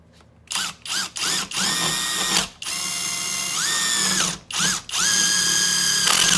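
Skil PWRCore 12V brushless impact driver sinks a 2-inch bolt into hard maple, loud and close in short stuttering bursts that give way to longer steady stretches of whirring, hammering drive.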